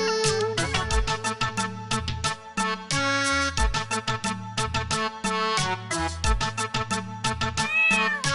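Steady Hindi children's rhyme with a sung melody. A repeated meow-like vocal imitates a cat over a bouncy rhythmic beat.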